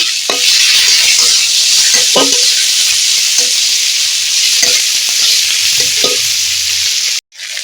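Ginger paste and spices fry in hot oil in a pan, a loud, steady sizzle broken by scraping clicks as they are stirred, cutting off abruptly near the end.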